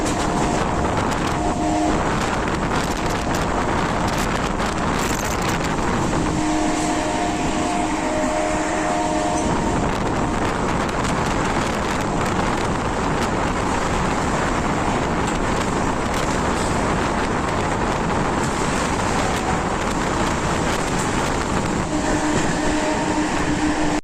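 A fast local train from Sealdah races through Bidhannagar station without stopping, a loud continuous roar of wheels and rail rumble with brief tonal whines, sustained and close for the whole stretch.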